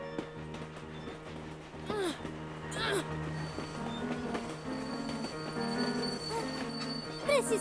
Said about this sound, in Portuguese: O trem saiu da estação!